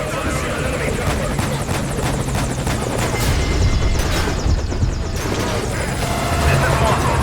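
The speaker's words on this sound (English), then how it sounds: "All fire teams, this is CP. Focus on your fire on an enemy chopper." An enemy helicopter in Metal Gear Solid V thunders close and loud, its rotor chopping steadily under battle noise, with radio voices talking over it.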